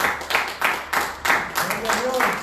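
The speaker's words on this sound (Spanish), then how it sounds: "Dale un aplauso a Cristo fuerte, hermano" Church congregation clapping in bursts of applause, a dense crowd of hands swelling and fading several times, loud and close, with voices mixed in.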